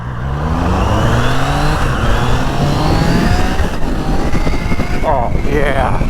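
A 2025 Triumph Trident motorcycle in sport mode pulls away and accelerates, its engine note climbing steadily and loud throughout, with wind noise over the ride and no pauses.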